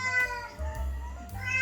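A domestic cat meows close by, a few drawn-out, tonal calls running together with brief breaks, alone without talk.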